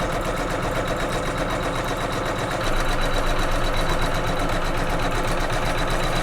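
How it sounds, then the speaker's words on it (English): A sewing machine tacking down quilted pillow fabric in a steady rapid mechanical chatter that grows a little louder partway through and runs without pause. "I'm going to hit start, and it's going to tack down my fabric."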